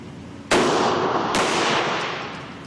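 A handgun fires at a shooting range: one sharp, loud shot followed by a second close behind, each with a long ringing decay, with no talking.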